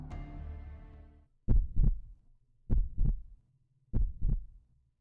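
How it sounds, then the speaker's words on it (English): Game heartbeat effect from Fate/Grand Order: three evenly spaced double thumps, deep and loud, following a fading low tone, with no voices. "A heartbeat again."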